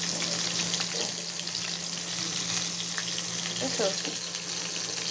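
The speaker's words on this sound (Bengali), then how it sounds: "আর এখানে ভাজা হচ্ছে" Liver fritters frying in hot oil give a steady, dense sizzle that carries through the whole stretch, with a few brief spatter pops and a short spoken question near the end.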